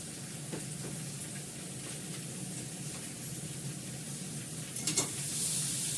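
Green chilies sizzling in hot oil in a wok while being stirred, a steady close frying hiss with a few clinks of a utensil and a brief louder burst of sizzle near the end.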